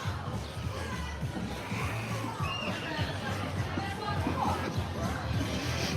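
Large crowd gathered for a concert at the EPCOT Flower & Garden Festival, a steady wash of murmuring chatter and babble with indistinct voices throughout.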